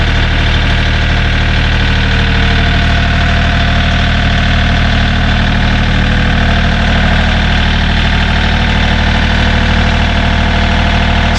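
An excavator engine idles loudly and steadily close by, a constant low rumble with a faint knocking vibration and no talking.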